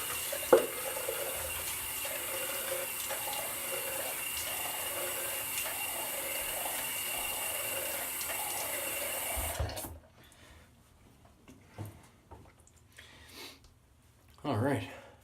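Tap water runs steadily from a faucet for about ten seconds while a face is wetted before a shave with a Sheermonnik Donderslag razor, then stops, leaving a few quiet handling noises and soft talk.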